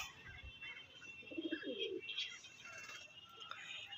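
Low, soft cooing from a pigeon, including a male, sounds near and fairly quiet over a steady background hiss, with a few faint chirps.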